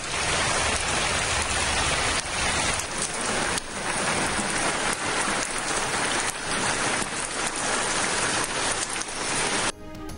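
Steady, loud rain pours across western Balochistan, including Gwadar and Jiwani, as a strong weather system moves in, a dense continuous hiss with sharp drop impacts throughout and no voices.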